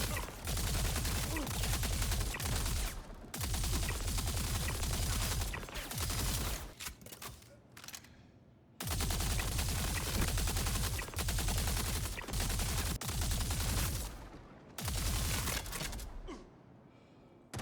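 Heavy automatic gunfire from a Star Citizen firefight against NPCs, two long sustained bursts of dense rapid shots, loud and close, each trailing off into brief pauses.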